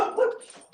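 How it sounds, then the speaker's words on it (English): A dog gives one short bark at close range, followed by a faint tail of room sound, with no one talking. "My dog."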